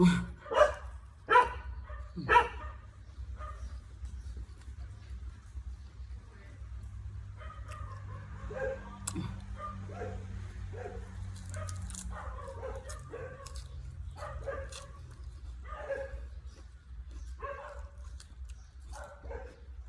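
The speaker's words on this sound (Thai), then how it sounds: "สมกับเสียงหมาเห่า" A dog barks several times in a quick burst near the start, then gives scattered fainter yips and whimpers over a low steady hum, at moderate distance.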